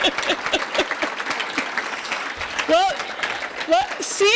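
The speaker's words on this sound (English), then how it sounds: "Give those folks a round of applause." An audience at a legislative gathering claps in a scattered, moderately loud round, with a voice speaking over the tail end.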